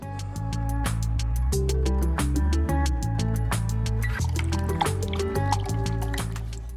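Close, wet squishing and sticky tapping as soft filler paste is pressed into cracks and smoothed on a hoverbike model built from trash, repeating in an irregular rhythm without speech.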